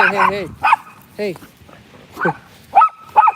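Small dog barking at much bigger dogs outdoors on a walk, with several sharp close barks and yips spread out in bursts, while a person talks to it.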